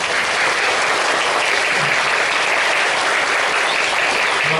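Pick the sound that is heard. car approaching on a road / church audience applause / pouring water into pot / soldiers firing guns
church audience applause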